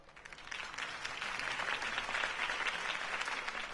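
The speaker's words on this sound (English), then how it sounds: "If only Mr. Wayne, my campaign's largest backer, could have heard that applause" Crowd applause after a campaign speech in the Telltale Batman video game: a broad, sustained wash of many hands clapping that swells after a quieter start and stays full to the end.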